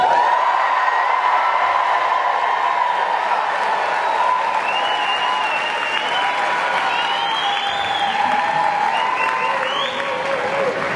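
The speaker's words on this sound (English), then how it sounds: "on the count of three you'll give us a good cheer" Dinner audience at a GLBT caucus event clapping and cheering on cue, a loud, sustained round of applause with whoops and shouts rising over it, steady from start to finish.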